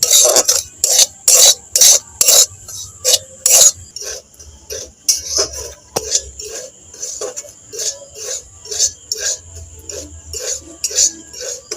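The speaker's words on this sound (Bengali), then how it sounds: "সুজিটা আমি হালকা ভেজে নেব" Rhythmic scraping strokes of a spoon stirring semolina as it is lightly roasted in a pan, repeated steadily and close up, with no talk.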